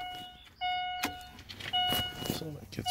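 A 2008 Chevy Aveo 5 automatic, stuck in park, being switched on: two bright electronic chime tones sound about a second apart with clicks between, close by, as a person speaks.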